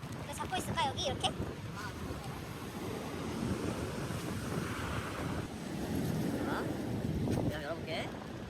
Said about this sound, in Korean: 파도가 여기까지 왔어